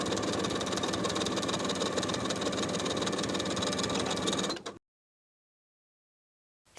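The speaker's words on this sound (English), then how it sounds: "top stitch right below that seam with a 1/4 inch seam allowance from one side to the other" A sewing machine top stitching a seam with a quarter-inch allowance on a jumper, running as a steady, loud mechanical whir for nearly five seconds before stopping abruptly into silence.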